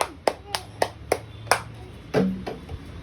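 Several sharp hand claps ring out one by one at a steady rhythm in a home setting, about six crisp close claps with a louder, longer clap near the end, and a voice talks between them.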